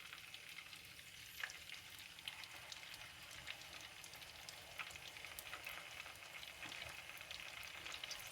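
Mutton nargisi kofte fry in hot oil, giving a faint, steady crackling sizzle with scattered small pops throughout and no voices.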